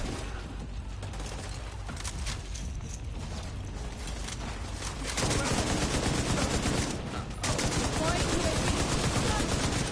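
Dense, continuous rapid gunfire from the video game The Division, growing louder and harsher midway with a brief dip, mixed with game mechanisms and some talk underneath.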